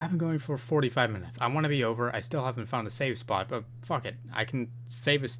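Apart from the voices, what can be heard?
No everyday noises stand out.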